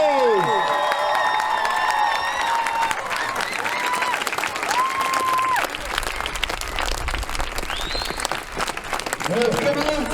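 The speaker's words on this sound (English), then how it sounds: "please give yourselves a round of applause!" Outdoor crowd at a Palestine solidarity rally in Bath, standing in the rain, breaks into sustained applause and cheering, with whistles and shouting voices mixed into the steady clapping throughout.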